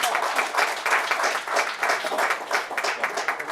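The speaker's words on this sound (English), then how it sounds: "Can we please have a huge round of applause?" A crowd at a health-insurance summit gives a sustained round of applause, many hands clapping densely and evenly throughout at a moderate level.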